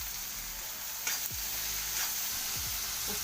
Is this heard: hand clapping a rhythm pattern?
no